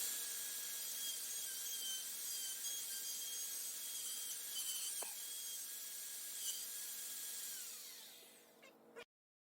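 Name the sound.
router cutting oval tenon in wood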